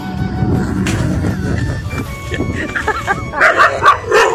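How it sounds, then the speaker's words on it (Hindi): Dogs bark and yip at a village home in India, several short barks rising near the end over background noise and someone talking. "कुत्ते भौंक रहे हैं मेरे कुत्ते"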